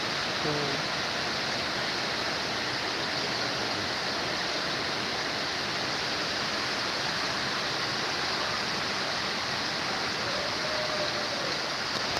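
Heavy monsoon rain pours down in a dense, steady wash that stays close and loud for the whole stretch, with no voices over it.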